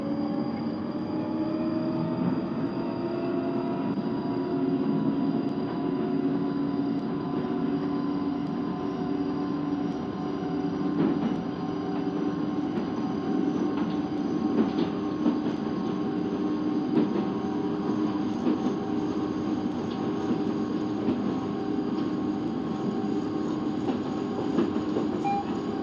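A London Underground Northern Line train runs in the OpenBVE train simulator game, a steady motor whine and rumble that rises gradually in pitch, with faint rhythmic rail clicks throughout and no voices.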